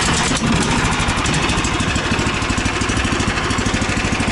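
A new, not yet run-in engine on a 2025 Tofalar 600 Tundra fires up and settles into a loud, close, rapidly pulsing idle that runs evenly throughout, with no voices.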